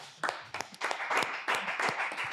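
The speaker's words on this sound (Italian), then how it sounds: "facciamo un applauso a Maite" A small group claps in a brief, uneven round of applause during a podcast, individual hand claps distinct and close.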